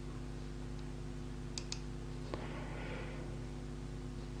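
A few faint, sharp mouse clicks, two close together and then a third, select images on a computer against a steady low hum in a quiet room.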